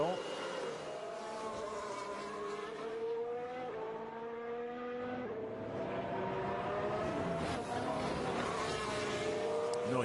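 Formula 1 cars lap the Russian Grand Prix circuit in practice, high engine notes rising and falling through gear changes over a steady background roar, with a commentator talking throughout.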